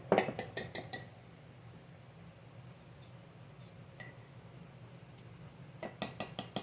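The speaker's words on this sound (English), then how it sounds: "And I've got my discard here. I just like to stir it up a little bit." A spoon clinks against a container while stirring sourdough starter discard, a quick burst of sharp taps at the start and another cluster at the end, with sparse faint clicks between and no talking.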